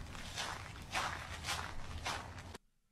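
Footsteps in an edited meme clip: a steady run of soft steps that falls into an even rhythm, then stops abruptly and leaves near silence.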